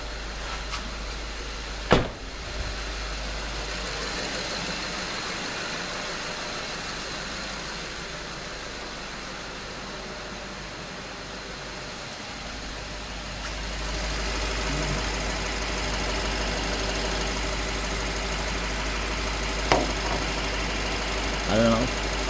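A 2011 BMW 550i engine idles steadily in the background, a low continuous hum with a couple of brief knocks or clicks over it.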